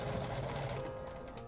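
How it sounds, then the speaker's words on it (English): A sewing machine runs steadily as it stitches the last stretch of a quilt's binding, giving a close, even mechanical whir with no talking. "I'm just sewing this last bit by machine."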